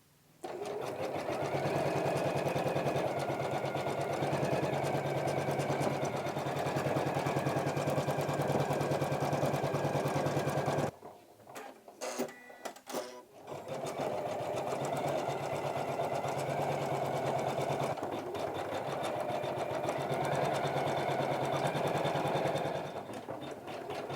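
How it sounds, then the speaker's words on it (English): An embroidery machine stitches out a piece of greenery in darker green thread, running as a steady, close mechanical whir that pauses briefly partway through and then resumes. "So once you have stitched out the greenery"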